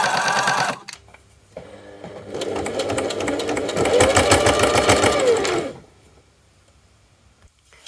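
A sewing machine stitches footer (fleece-backed knit) fabric for men's lounge trousers, a short burst and then a longer, steady run of rapid mechanical clatter close by before it stops.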